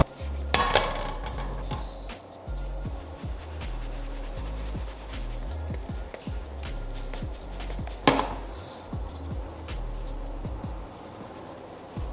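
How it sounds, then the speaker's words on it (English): Flour for shortbread is shaken through a sieve into a bowl, giving a steady faint rubbing and scraping rasp marked by a couple of sharper knocks against the rim. "And you want to sieve it into your bowl."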